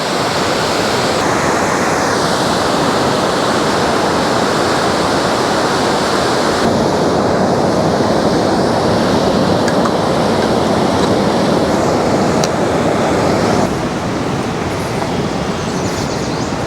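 Water rushes through an old canal weir and lock in a loud, continuous roar that stays dense and unbroken from start to finish, with no voices.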